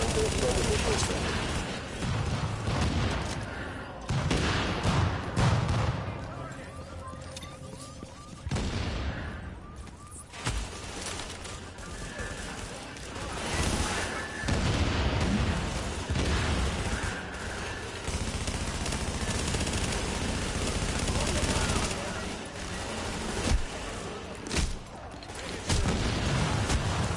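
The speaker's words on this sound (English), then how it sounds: "Reporting gunfire at the station above us" Gunfire bursts through a firefight in the video game The Division, with rapid automatic volleys, single shots and heavy booms in an uneven, dense rhythm, while voices talk over the combat.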